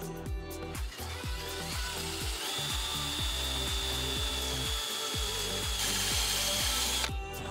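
Power drill boring a small dimple into a 2013 BMW 335 F30 steering wheel for paddle shifter retrofit, a close rhythmic series of short whirring bursts in repeated pulses.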